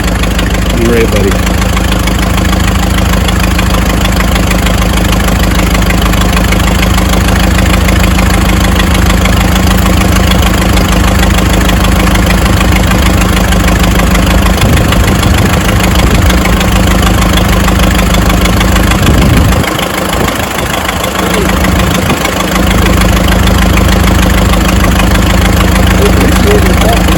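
A tractor engine idles steadily throughout, a constant low rumble with a couple of brief dips in the low end.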